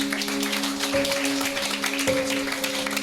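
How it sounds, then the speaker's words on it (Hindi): Audience clapping at a Hindi church sermon, a moderate patter of many hands under a steady hum of sustained tones, continuing evenly throughout. "अरे ताली तो ठोको, बजाओ ताली बजाओ।"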